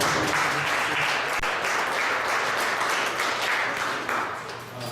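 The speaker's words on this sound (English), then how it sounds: "Let's give a round of applause." An audience at a community launch event in Pittsburgh claps together in a sustained, steady wash of applause, fairly close, easing off slightly near the end.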